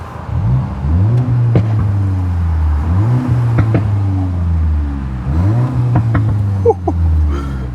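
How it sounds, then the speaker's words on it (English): Loud, close revving from a 2024 Volkswagen GTI MK8 with a muffler delete, three long rising pulls, each swelling and dropping back, with sharp pops and crackles between them and no talk over it. "let's get a couple standby revs, you feel me? See what it sounds like revving."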